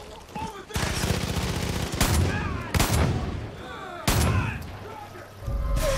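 Gunfire in Far Cry 5, loud bursts of automatic weapon fire and sharp single shots with heavy booming reports, broken by short gaps, with a voice speaking between volleys.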